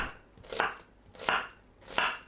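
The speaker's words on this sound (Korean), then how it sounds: "양파를 채 썰어 주세요" A knife slices an onion into thin strips on a cutting board: three crisp, evenly spaced cuts, each a quick crunch ending in a light tap on the board, close-up and quiet with no voices.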